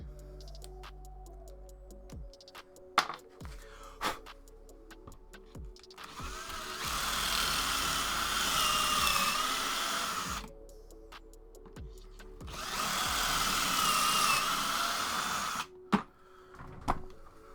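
A drill bores pocket holes through a Kreg 320 jig in two sustained whirring runs of several seconds each, close by, with clicks and small handling knocks between them.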